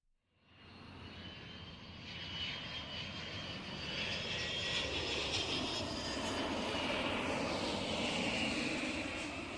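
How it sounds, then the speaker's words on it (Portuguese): A passenger airplane lands at São Paulo airport, its engine roar swelling in after a brief quiet start and holding as a broad, steady, fairly close rush with a whistling jet tone on top. "o avião do Palmeiras pousa em São Paulo"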